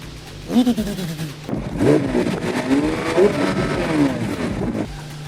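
A green Porsche with tinted windows drives up and pulls in to park close by, its engine revving in rising and falling sweeps at moderate volume with a brief pause early on, voices faintly mixed in.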